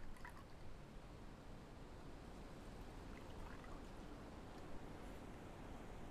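Melted soap base pours from a microwaveable bag in a steady, continuous liquid stream, a soft broadband rush lasting several seconds with no talking over it.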